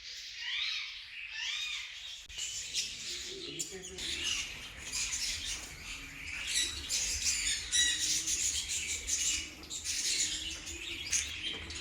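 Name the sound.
small caged birds calling at a picnic garden mini zoo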